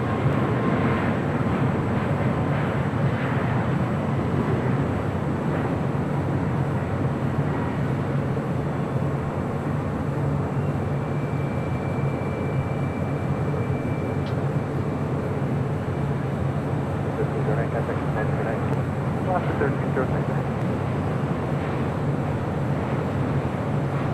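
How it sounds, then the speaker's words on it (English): Alaska Airlines Boeing 737 MAX 9 jet at Los Angeles International Airport, a steady broadband roar of jet engine noise that holds level and continuous throughout, with a faint high tone briefly rising partway through. "This is a brand new 737 MAX 9 with Alaska."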